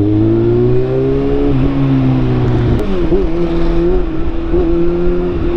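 Car driving through heavy traffic into a tunnel on a sunny day, engine droning steadily and close, with a low rumble that shifts and echoes slightly partway through, continuous and fairly loud, no talking.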